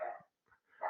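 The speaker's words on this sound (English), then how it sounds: "If you hear my dog barking, I apologize." Indoors, a dog gives a sharp bark, goes quiet briefly, then barks again, clear and fairly near with no voices over it.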